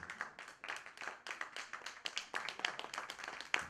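Audience clapping at an evening music program in a Delhi public library, a steady patter of many hands with a few sharper close claps standing out, fairly faint and distant with no talk over it.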